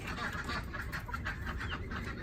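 Two newly acquired Cochin chickens in a backyard homestead coop give a run of repeated, nasal clucking calls close by, steady and busy throughout, with no speech.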